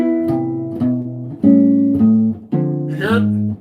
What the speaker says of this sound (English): I'm just playing 2 notes actually with the bass line on the bottom.